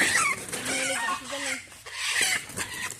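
A derby-winning gamecock clucks and calls in short, rough bursts near the recorder, with people talking over and between the calls.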